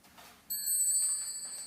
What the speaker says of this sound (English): Oh, you even use a wind chime.